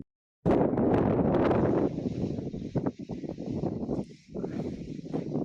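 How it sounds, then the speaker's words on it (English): Wind buffeting a microphone outdoors, with heavy low rumbling gusts that start abruptly, then rise and fall in uneven bursts and brief drops, loud and close. "The wind was blowing and the audio wouldn't come out."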